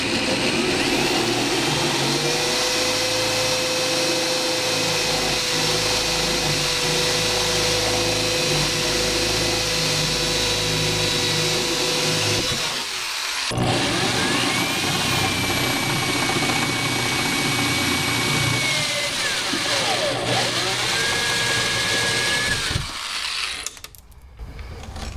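A drill with a 3/16 inch bit grinds out rivets on the hood of a C4 Corvette during front-end collision repair, a loud continuous whirring with pitch shifts, brief pauses between rivets and a stop near the end.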